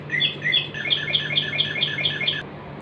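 Small birds chirp in a quick, regular series of bright tweets over a steady low hum, the calls stopping abruptly near the end while the hum continues.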